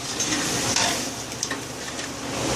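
Yogurt being stirred into a sizzling biryani gravy, a steady close frying hiss with a few soft scrapes and clinks of the spoon against the pot and no voices.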